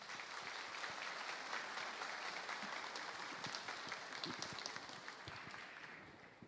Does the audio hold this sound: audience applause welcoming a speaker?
yes